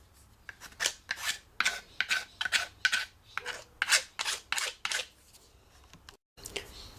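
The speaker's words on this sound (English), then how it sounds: "Now just use a file to take all the roughness off the sides of your PVC." A metal hand file rasps along the rough cut edges of a PVC pipe, close and rhythmic, with a steady run of short scraping strokes that stop briefly near the end.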